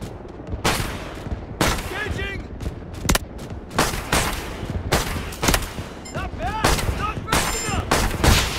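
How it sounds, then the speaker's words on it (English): Artillery barrage in the video game Delta Force: repeated loud booming blasts and rattling gunfire bursts every second or so, with whistling incoming rounds and a constant battlefield roar. "Artillery ready for barrage."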